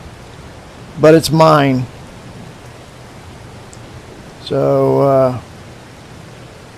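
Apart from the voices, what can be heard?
rain falling in Farming Simulator 22, a video game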